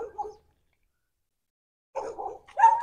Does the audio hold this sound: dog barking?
yes